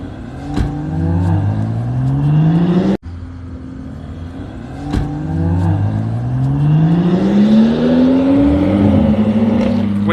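Two BMW cars, a 140i and a 135i, accelerating hard head to head, engines rising in pitch through sustained loud revving runs with a brief cut near three seconds, close and alone without talk.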